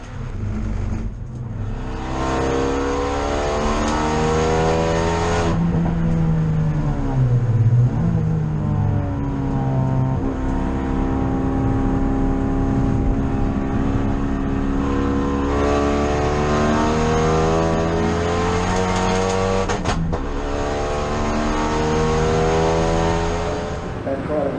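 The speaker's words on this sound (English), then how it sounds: "the inside of this car is so violently loud when you shut off and it pops and bangs" An enduro race car engine roars loud from inside the cabin, rising and falling through revs with strong harmonic tones. Crackles and pops break in when the throttle shuts, and talk is faintly present beneath the noise.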